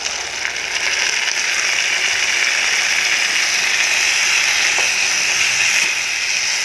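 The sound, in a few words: masala frying in a pan with soybean and rajma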